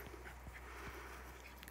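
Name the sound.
miniature schnauzer puppies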